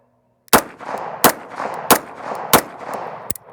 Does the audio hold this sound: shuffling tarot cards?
no